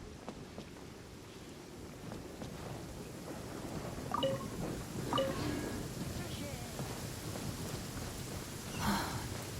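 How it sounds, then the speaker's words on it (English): Steady rain in Genshin Impact patters over a low rumble, with a few soft chimes and effects rising briefly above the wash. "It's raining."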